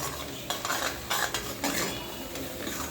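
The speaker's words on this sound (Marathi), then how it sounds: "त्याला छान प्रकारे मस्त फ्राय करून घ्यायचं हे वाटण" Ground masala paste frying in a pan for a goat-meat curry, a continuous bright sizzle broken by a few rhythmic stirring scrapes, close and with no speech.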